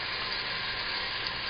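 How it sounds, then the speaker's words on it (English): Moose meat browning in sizzling butter in a pan, a steady close hiss and crackle that holds evenly for a second and a half without talk. "you're starting to hear that butter sizzle"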